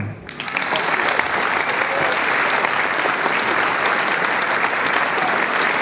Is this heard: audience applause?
yes